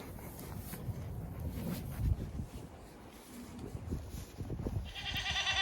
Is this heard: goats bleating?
yes